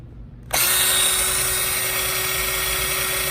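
A Black & Decker cordless drill spinning a scrubbing brush starts abruptly and whirs at a steady high speed, loud and close, with a constant motor whine and no talking.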